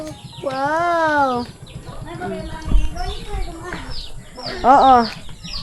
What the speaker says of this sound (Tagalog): kasi may manok dito